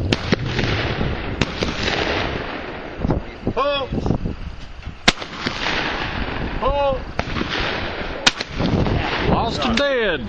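Shotgun blasts at night skeet shooting, several sharp loud reports spaced through the scene, with people calling and talking between shots.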